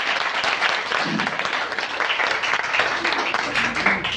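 An audience at a women's empowerment closing ceremony gives a sustained round of applause, dense and loud throughout the clip, with some voices faintly mixed into the clapping.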